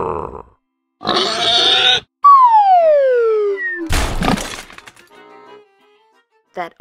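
A cartoon pig oinks with a gruff grunt in an animated storybook scene, mixed among other loud cartoon effects including a long descending slide-whistle tone and a sharp crash, with short pauses between.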